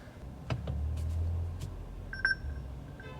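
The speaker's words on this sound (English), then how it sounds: "Did you hear that little beep there?" A soft electronic chime from a Polestar 2 dual-motor car sounds once near the middle, brief and fairly faint over low cabin road hum, with a few light clicks before it.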